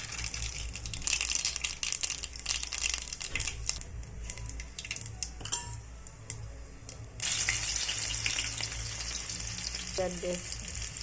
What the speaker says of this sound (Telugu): ఆయిల్ వేడెక్కిన తర్వాత పోపు దినుసులు వేసుకోవాలి